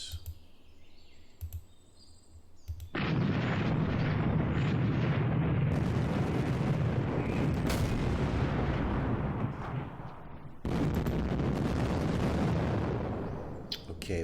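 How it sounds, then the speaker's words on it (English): Heavy guns and mortars firing in the wargame Panzer Campaigns Kiev '43, a few sharp clicks, then a long loud rumbling barrage of explosions that stops briefly and starts again. "Okay, we got some even more heavy guns here. Don't like these mortars."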